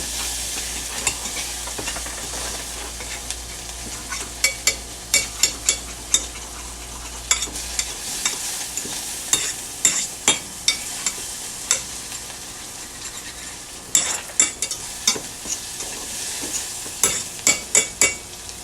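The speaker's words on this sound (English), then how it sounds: "You got your bacon frying up in there." Steady sizzling of bacon and onions frying in a pan, with repeated clinks and scrapes of a utensil stirring, close and fairly loud, no voices.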